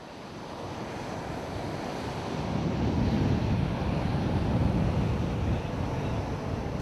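Ocean surf rolls onto the shore in a continuous broad wash that swells gently and then eases, with wind rumbling across the microphone and no voices.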